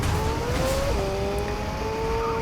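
In the Fortnite video game, a car drifts, its engine revving steadily over a continuous tire-and-road roar. The sound is loud and sustained, with the engine pitch shifting slightly partway through.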